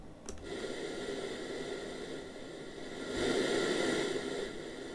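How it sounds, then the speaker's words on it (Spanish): A steady, soft rushing hiss of broadband noise plays continuously, growing slightly louder partway through, with no voices. "Este de ruido rosa."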